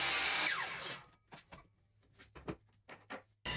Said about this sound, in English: Then over at the chop saw, I can very carefully even out all three prongs.